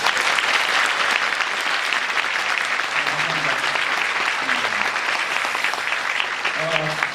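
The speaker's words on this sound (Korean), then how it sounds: "이분들께도 박수 한 번 부탁드립니다." A theatre crowd gives sustained applause at the closing-night special curtain call of the musical Ghost, a thick, continuous roar of many hands clapping throughout, with a few faint voices underneath.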